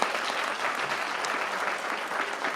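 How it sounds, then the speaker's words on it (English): Sustained applause from a ceremony audience honoring contest winners, dense and even clapping from a large crowd that stays loud and steady throughout, with no voices over it. "If we can get another round of applause for all of our 27 winners for this year's contest."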